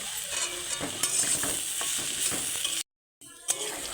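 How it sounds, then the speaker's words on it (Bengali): Chilli, turmeric and cumin powders are stirred into hot oil in a frying pan for a ridged gourd fry, giving a close, steady sizzle with soft scraping strokes and a brief silent gap near the end. "লঙ্কার গুঁড়ো, হলুদের গুঁড়ো, জিরে গুঁড়ো দিয়ে ভালো করে একটু নেড়ে নেব।"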